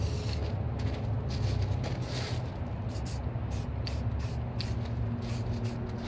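Spray paint can hissing steadily and close while lightly tracing a lens flare ring, a continuous airy spray with slight pulsing over a few seconds, no voices.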